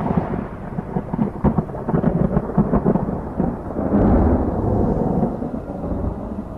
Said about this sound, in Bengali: হঠাৎ বাইরে থেকে একটা বিদ্যুতের আলো নিয়ে একটা বড় রকমের বাজ পড়ার শব্দ হল।